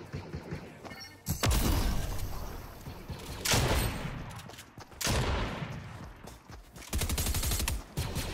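Loud bursts of rapid gunfire come from a video game battle royale, in several long, dense volleys with short gaps between them, and a player's voice is heard at times.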